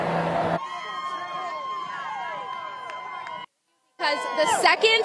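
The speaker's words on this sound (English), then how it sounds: "the second this crowd saw even the bands way up the road, they all started cheering and they have not stopped" Crowd of parade spectators cheering at a Carolina Hurricanes Stanley Cup championship parade, a loud continuous roar with whistles and shouts that cuts off briefly near the end, then bursts back in with sharp whistling.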